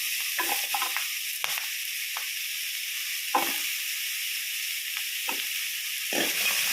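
Vegetables with carrot sautéing in a pan for an avarakkai chutney, a steady close sizzle broken by several brief scraping stirs.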